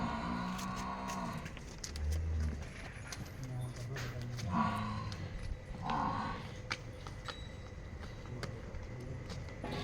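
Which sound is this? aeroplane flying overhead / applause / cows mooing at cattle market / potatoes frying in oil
cows mooing at cattle market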